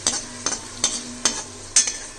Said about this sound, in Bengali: এবং এই পর্যায়ে আমি এই ভেজে রাখা শুকনো লঙ্কাটাও দিয়ে দিলাম।